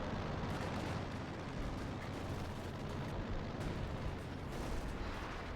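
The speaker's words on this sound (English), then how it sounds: "Luciano invokes the sector artillery" Sector artillery barrage in Company of Heroes 2, a dense unbroken roll of shell blasts and booming detonations sustained loudly throughout with no pauses.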